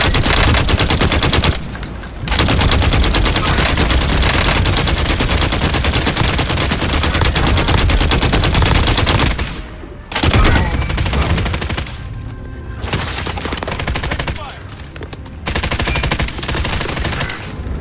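Sustained automatic gunfire in Call of Duty Modern Warfare, loud dense bursts of rapid shots rattling almost continuously with a few brief pauses between volleys.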